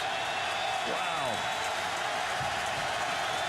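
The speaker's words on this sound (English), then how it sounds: "Crowd trying to help out the defense." Stadium crowd at a Miami versus Georgia Tech college football game, 2005, a steady broad roar of cheering and noise filling the whole stretch, with whistle-like tones sweeping through it.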